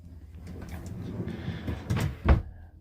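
Big, deep drawers in a Dodge Ram Promaster camper van conversion slide along their runners with a low rumble, ending in a brief, louder thump as one closes. No one speaks.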